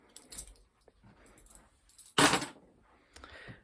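Keys jangle in short metallic bursts, with a loud clatter midway and smaller rattles around it, close by with faint room noise.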